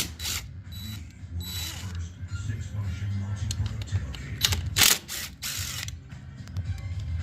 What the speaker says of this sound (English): I'm using the DeWalt 20 volt, and we're just gonna take these screws off.